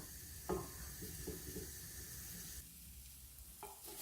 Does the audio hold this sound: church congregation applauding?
no